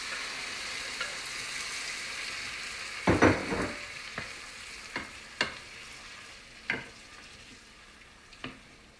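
Tomatoes tipped into a pan of lightly browned, translucent onions: a faint background sizzle jumps briefly as they land, followed by several scattered spoon scrapes and taps, close but quiet, no speech.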